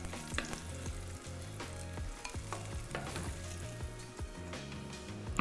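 Pancetta fat sizzling and crackling steadily in a frying pan, with scattered pops and a few stirring scrapes over a continuous hiss, close up with no voices.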